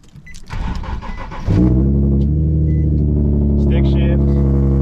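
A stick-shift car starts cold: the starter cranks briefly, then the engine catches with a loud burst and settles into a steady, slightly raspy idle close by.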